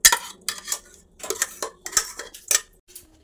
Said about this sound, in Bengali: এবারে এটাকে গামলার মধ্যে ঢেলে নেব